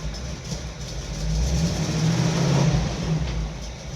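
A V8 engine in a Jeep YJ rises from idle into a moderate rev, a steady low rumble swelling midway and easing off, heard from close by.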